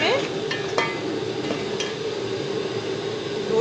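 Onions frying in oil for aloo pulao, stirred with a spoon: a steady near sizzle runs throughout, with a few light spoon scrapes and taps against the pan.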